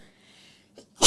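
A single sharp sneeze bursts out loudly at the end. It follows a faint intake of breath and comes during a podcast conversation.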